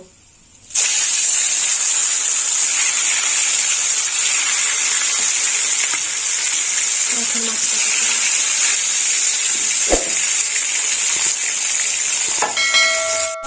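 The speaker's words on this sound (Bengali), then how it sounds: "বাকি মাছটাও ভেজে নেব।" Kachkel fish frying in a pan gives a loud, steady sizzling hiss that runs almost the whole time, with a brief utensil clatter near the end.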